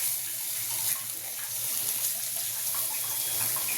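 Water poured into a cooking curry in a pan, a continuous close gushing splash with steady hiss, no talking.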